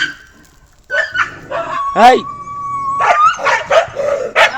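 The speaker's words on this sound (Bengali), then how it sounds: "এই দেখো এই কুকুরে মারামারি লেগেছে গো আমাদের বাড়ির কাছে" Dogs scuffle nearby, yelping, howling and barking in overlapping bursts, loud and agitated, with a person's voice mixed in.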